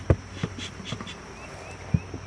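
Honeybees buzz inside a hive just opened and smoked, a faint steady hum with occasional soft thumps and clicks, close but quiet, with no talking.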